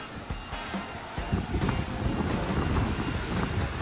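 A tiltable RV fan blows air in a steady, rushing whoosh that swells slightly louder partway through, close and alone, with no talk.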